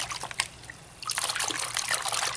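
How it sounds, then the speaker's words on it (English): A JVC Quad Proof camcorder swished around in a container of water, producing close, continuous trickling and sloshing that quiets briefly and then grows busier and louder. "swish it around in the water."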